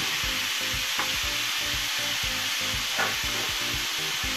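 Ground beef fries in a skillet with a constant close sizzle, broken by regular rhythmic scraping as the meat is pushed around, and no talking.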